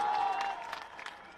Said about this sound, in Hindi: उनके अभिनंदन में जोरदार ताली बजाइए, चारों तरफ से बजाइए।